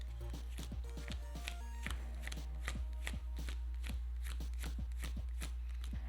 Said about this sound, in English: I'm going to shuffle the deck